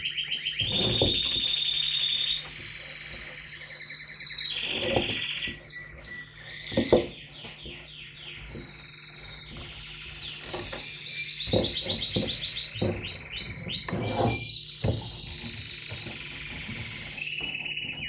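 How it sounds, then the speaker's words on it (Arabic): A roomful of canary chicks sings at once: bright chirps, rapid trills and whistled phrases overlap in dense bursts, loud and near, with brief lulls before the chorus swells again. "دابا راه بديت كنصور الفراخ كاملين كيغنيو دابا ما يبغيوش يسكتوا"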